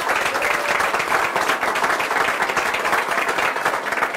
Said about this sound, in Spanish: quiero que a ellos les demos un fuerte aplauso